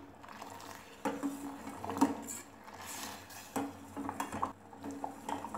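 A spoon scrapes and clinks against a pot while gulab jamun made from bread are stirred in sugar syrup, giving intermittent metallic knocks and soft liquid movement close by.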